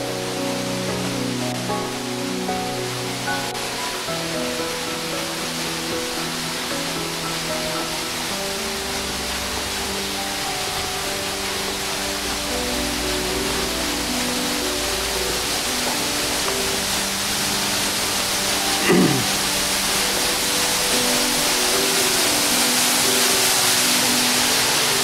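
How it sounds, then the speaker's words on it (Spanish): A waterfall of ferrous water at the bottom of a ravine roars as a broad, steady rush of falling water, continuous and fairly loud throughout. "Aquí estamos ya en el fondo del barranco y esta es la cascada de agua ferrosa."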